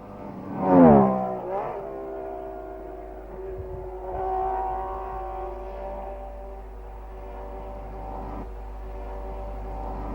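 A 1962 BRM Formula 1 race car run by the Owen Racing Organisation Works team sweeps past on the Belgian Grand Prix circuit in the Ardennes, a loud engine howl peaking early, then a sustained fainter drone as it pulls away.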